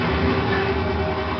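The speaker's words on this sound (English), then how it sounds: "That's the sound of a missile coming at you." A pufferfish torpedo approaches in Donkey Kong 64, a steady rumbling whirr with a faint sustained tone, loud and close throughout the short stretch.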